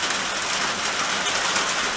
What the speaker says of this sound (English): as you can hear, it's starting to rain today.